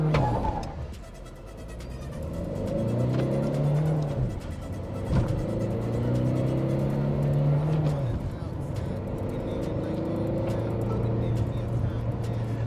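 A Tata Nexon diesel car accelerates hard from inside the cabin, its engine note climbing and dropping through gear changes with a steady low rumble beneath.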